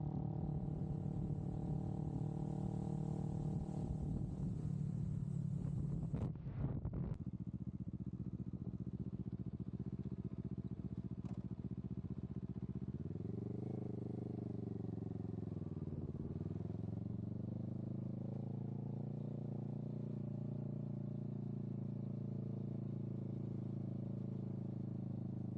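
A motorcycle engine drones steadily during a ride from the Seme border in Benin toward Togo, with wind rushing past; the engine is loud and harmonic early on, then eases into a lower, steady hum with a brief revving swell midway.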